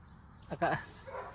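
A single muffled bark from a neighbouring dog rings out at a distance, brief and faint against a quiet background.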